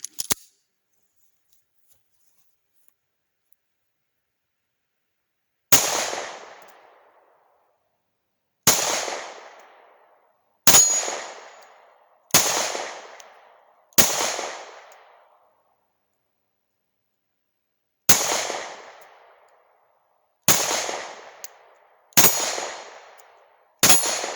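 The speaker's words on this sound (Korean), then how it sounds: "스프링필드 헬캣 9mm입니다." Nine sharp gunshots from a Springfield Hellcat 9mm pistol at an outdoor range, each a loud, abrupt crack with a quick decaying tail, fired at uneven intervals after a silent opening.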